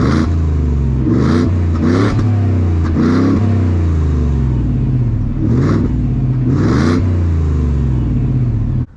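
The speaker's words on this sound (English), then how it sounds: "It's very tame, just a nice subtle V8 rumble." A 2021 Ford F-150 Black Widow pickup with a V8 and Gibson exhaust idles with a deep, smooth rumble, blipped several times into short revs that swell and fall back, close and loud.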